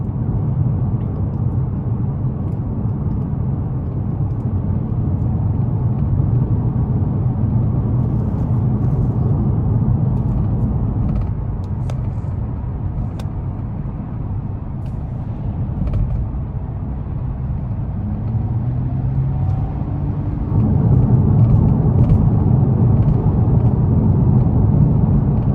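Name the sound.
2021 Nissan Maxima SR 3.5 V6 driving at night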